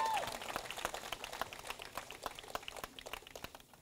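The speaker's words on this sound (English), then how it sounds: "Clap for this king again one more time." An audience claps for a speaker at a Brooklyn street-corner class, a loose scattered round of hand claps of moderate loudness, irregular and thinning toward the end.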